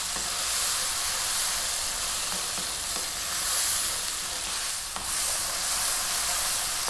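Tomatoes cook down in a hot pan for a spicy shrimp pasta, producing a constant, hissing sizzle with occasional stirring taps and a slight swell in intensity partway through.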